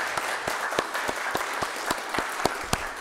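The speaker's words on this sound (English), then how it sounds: "let's give him a round of applause" A small church congregation gives a round of applause, sparse, distinct individual claps in an uneven rhythm rather than a dense roar, heard close and alone.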